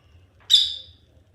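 African lovebirds give a single sharp, bright chirp-squawk, short and fairly close, with a low hum underneath.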